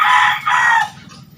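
An 8-month-old gamefowl stag crows nearby, one loud, bright call in two surges lasting about a second, then trailing off into quieter background.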